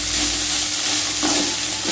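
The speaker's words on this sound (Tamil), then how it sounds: "தேங்காய் ரொம்ப நேரம் வதக்கக்கூடாது, ஒரு நிமிஷம் வதக்கினா போதும்." Grated coconut sautés in a pan for coconut rice, making a loud close sizzle with a brief burst of stirring and scraping near the end.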